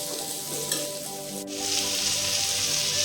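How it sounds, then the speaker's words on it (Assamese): Potato pieces frying in oil in a pan for a fish curry, a steady close sizzle that holds throughout and grows a little louder toward the end. "আলুখিনি দি দিলোঁ, এতিয়া অলপমান ভাজি লওঁ।"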